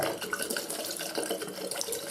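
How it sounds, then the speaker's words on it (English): Water runs steadily from a tap while foil parts of a Remington F3 electric foil shaver are rinsed beneath it, a close continuous splashing hiss with no talking. "they are washable as well, so you can put those bits under the water if you need"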